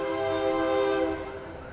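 A train horn sounds at a Christmas parade in Morristown, a sustained harmonic blast held steady for over a second before tapering, loud and fairly close over background crowd noise.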